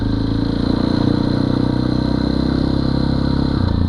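Motorcycle with a Rekluse auto clutch running steadily in first gear under engine braking, a continuous near, loud mid-pitched engine drone with a slight dip near the end.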